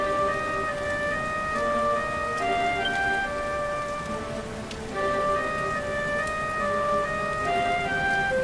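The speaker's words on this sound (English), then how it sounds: "Looks like the rain's dying down." Steady rainfall hisses on surfaces in a Dragon Quest XI game scene, with soft gentle music tones drifting over the constant patter throughout.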